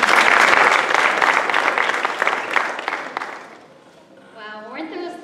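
An audience at the Miss Harvest Homecoming pageant breaks into loud sustained clapping that gradually fades, followed by a voice speaking over the hall.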